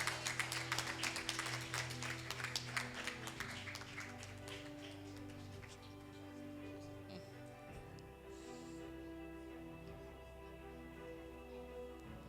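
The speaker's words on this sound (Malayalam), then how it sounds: "അപ്പം നമ്മുടെ നല്ല കയ്യടിയോട് കൊടുത്തേ ശരിക്കും" An Onam public meeting audience claps at a prize giving, with brisk clapping at first that thins out, then a steady hum of the hall continuing under a faint background.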